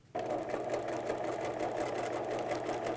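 A sewing machine zigzag stitches elastic onto fabric along an elastic waist edge, running steadily and close up with a fast, even needle rhythm that starts abruptly and continues without a pause.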